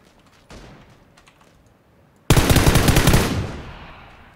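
A loud, sustained burst of automatic gunfire from an unstable gun in a video game breaks in abruptly after a fainter shot, a dense rapid stream of close shots lasting about two seconds.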